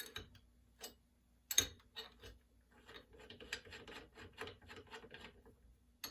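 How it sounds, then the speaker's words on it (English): The centre bolt of a bicycle crank puller is tightened against the bottom bracket spindle, giving faint, close ratcheting clicks and small metallic scrapes in an irregular rhythm. The clicks grow busier toward the end. "what you're doing is you're tightening the center bolt, and that center bolt now is going to push on the spindle"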